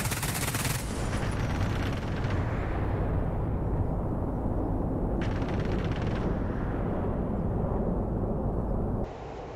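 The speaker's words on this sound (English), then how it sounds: "Oh, they're still shooting at us." Sustained enemy gunfire during an air strike in a video game, a loud, dense rattle of rapid shots and blasts that continues almost without a break, then drops off sharply at the end.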